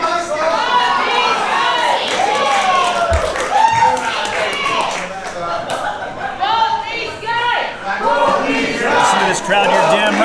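A lively wrestling crowd at a Primal Pro Wrestling show cheers and shouts continuously, a dense, loud wash of many voices with whoops and yells rising and falling throughout.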